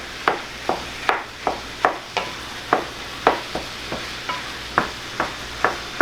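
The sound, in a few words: ground venison with onions and garlic breaking up with spatula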